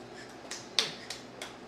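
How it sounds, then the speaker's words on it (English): A small child at a dinner table claps, giving four soft, sharp claps spaced unevenly over under two seconds, faint and close, with no talking. "Yeah, you gave me a big clap."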